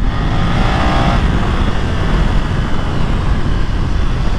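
A BMW F 900 XR motorcycle engine accelerates hard with quickshifter blips, a loud, continuous engine roar with the rider's wind and road noise and no speech.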